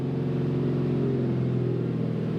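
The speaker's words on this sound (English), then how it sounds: "I'm going to push it up about 2400 RPMs. I'm in first gear." Ford 6.7 truck engine in first gear held at around 2400 RPM, a close, steady, deep droning rumble with a faint rise in pitch partway through.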